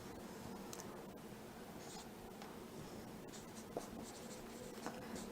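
Marker or chalk scratching across a board during a physics lecture on a driven simple harmonic oscillator: soft, continuous scraping strokes with a few sharp taps, steady and fairly faint in a roomy space.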